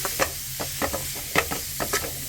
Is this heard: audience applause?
no